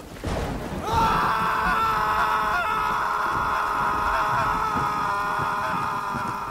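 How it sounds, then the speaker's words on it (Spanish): A long, violent scream tears through the night as a sound effect in a Spanish audiobook of Stevenson's body-snatchers tale; a sharp onset swells into a sustained, strained wail that holds loud and close for several seconds. "Un violento alarido rasgó la noche."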